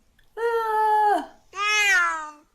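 A puma gives two loud, drawn-out cat-like calls, each with a strong voiced tone lasting close to a second, separated by a short gap and heard alone without talk.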